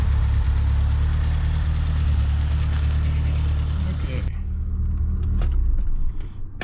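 A 1990 Fiat Uno Turbo Phase II rumbles with a steady mid-pitched engine drone that eases and changes tone partway through, close and continuous.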